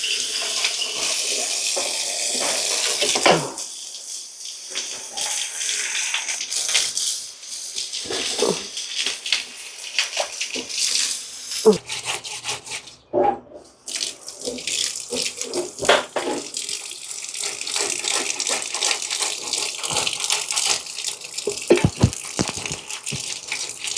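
Tap water runs and splashes steadily while sea fish is rinsed and rubbed clean, close and continuous, with brief dips and handling noises where the flow is interrupted.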